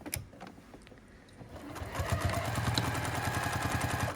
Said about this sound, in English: So I sew the binding to the front of the quilt like this